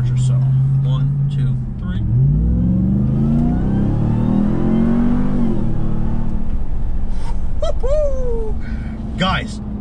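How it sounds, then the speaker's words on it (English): Ram TRX pickup accelerating hard, its engine note rising steadily through the gears with a high whine on top, shifting briefly and climbing again, loud and close, with voices over it. "we do need to do a little acceleration here because I want you guys to hear, you know, that supercharger."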